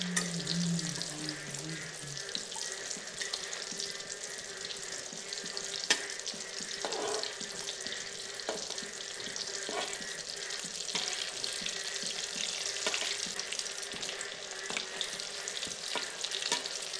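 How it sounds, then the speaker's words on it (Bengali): Chicken pieces deep-frying in oil, a loud, dense, crackling sizzle that stays constant throughout, with occasional faint clinks of stirring over the bubbling. "দিয়ে ভালো করে লাল লাল হওয়া পর্যন্ত ভেজে নিচ্ছি"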